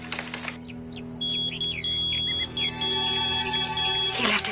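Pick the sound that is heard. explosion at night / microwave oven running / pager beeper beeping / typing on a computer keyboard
pager beeper beeping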